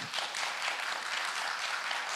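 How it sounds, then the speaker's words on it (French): A conference audience applauds in a steady, even wash of clapping, heard from a distance and fairly faint, with no talk over it. "Alors, applaudissements, oui, s'il vous plaît."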